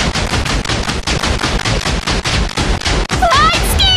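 Rapid explosions rumble and crackle in a Minecraft game as mutant zombies are blasted, a loud dense barrage of booms that ends with rising whooshing game effects.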